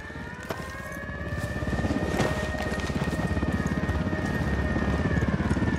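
A military helicopter in the video game Ghost Recon fills the scene with a steady, loud rotor chop and turbine whine. Sharp gunfire-like bangs punctuate it, and the background is busy with no clear speech.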